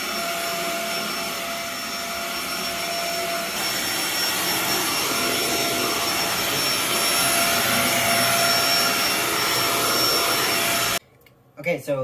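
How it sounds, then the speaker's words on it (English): A household vacuum cleaner drones loudly and continuously nearby with a steady whining hum, its pitch shifting slightly as it works, then cuts off abruptly near the end, followed by a few faint sounds. "Okay, so laundry and vacuuming is done"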